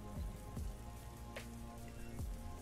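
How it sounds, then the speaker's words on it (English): A rain track sits in the background of a music beat: a continuous soft patter and hiss of falling rain, quiet and steady, with faint tonal music lines beneath it and no voices. "Little rain in the back."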